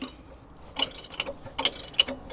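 A pitman arm puller works on a Jeep XJ steering pitman arm, giving bursts of close metallic ratcheting clicks and clanks in uneven clusters, moderately loud, with no talking.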